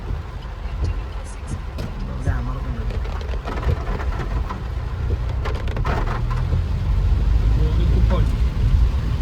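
Heavy rain falls during a night drive on a rough route, with a steady hiss of rain over the low rumble of the moving vehicle, the noise building slightly toward the end.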